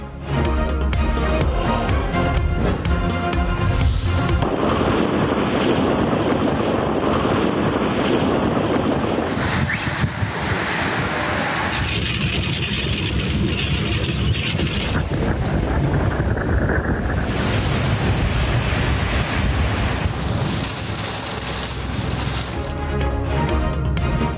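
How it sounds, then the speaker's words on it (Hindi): A thunderstorm in Islamabad, with strong winds and rain that brought down trees: a loud, continuous roar of gusting wind buffeting the microphone, with no speech. "इस्लामाबाद में गरज चमक और तेज हवाओं के साथ बारिश, दरख्त गिर गए।"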